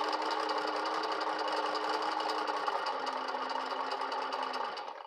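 A 1952 Singer 15-91 sewing machine stitches through heavy socks, running at a steady, continuous whir with a fine mechanical rattle throughout before easing off at the very end.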